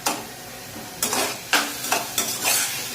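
Pumpkin with sago sautéing in a pan for a sweet payasam, giving a steady sizzle broken by several sharp scrapes and stirs of a spoon against the pan, close and fairly loud, with no talking.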